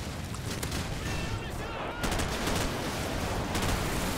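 Online Call of Duty 4 team deathmatch gunfire, dense bursts of shots and rattling automatic fire throughout, with a loud stretch in the second half.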